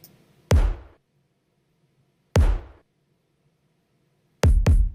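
Layered kick drums, a stomp kick combined with a top kick, thump as a single punchy hit, a second hit, then a fast double hit, each decaying quickly into near silence.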